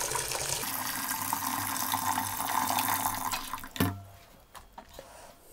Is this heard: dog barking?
no